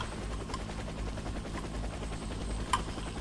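In the Warface video game, a helicopter arrives for a pickup. Its steady rotor drone rumbles low and continuous for the whole stretch, with a few faint distant taps and clicks, and no talking.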